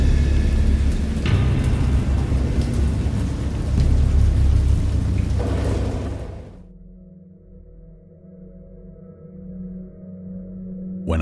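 Heavy, steady rain pours with deep rumbling thunder, then the downpour cuts off abruptly, leaving a low distant rumble and softer dripping.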